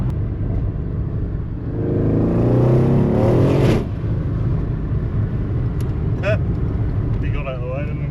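A Mercedes CLS boosts hard on the way to a Cars and Coffee meet in New Zealand, its engine note swelling loudly for a couple of seconds under a steady road rumble, with people talking inside the cabin.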